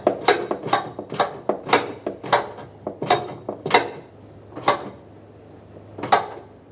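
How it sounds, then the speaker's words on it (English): Washer tank being bolted onto a Ford E-350 van, a fast run of sharp ratcheting clicks that slows into a few spaced final clicks as the fastener on the stud side tightens, close up and without speech. "now let's bolt the tank on, starting with the stud side"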